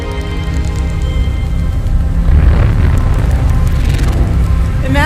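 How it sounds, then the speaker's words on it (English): Sonified gravitational waves of a light black hole falling into a much heavier black hole, rendered as a loud, continuous deep rumble with dense low-frequency pounding that swells slightly midway. "The sound you're hearing is a light black hole banging on space each time it gets close."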